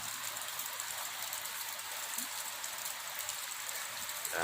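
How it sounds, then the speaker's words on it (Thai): Steady morning rain falls on a rural house, a continuous even hiss of drops that holds with no gaps and no voices. "บรรยากาศตอนเช้านะครับฝนตกแต่เช้าเลยครับ"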